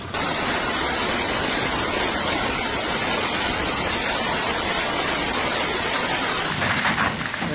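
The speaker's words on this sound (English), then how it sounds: "Me viene el agua y la piedra," Heavy rain mixed with hail pours down during a hailstorm in Río Tercero, Córdoba, Argentina, a dense, unbroken hiss and patter throughout, with a brief brighter burst of impacts near the end.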